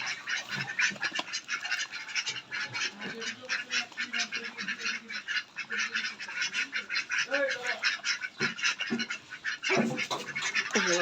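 Hungry ducks quack loudly and constantly while being fed, a dense, overlapping chorus of harsh, close calls with a few splashy scuffles, running the whole time.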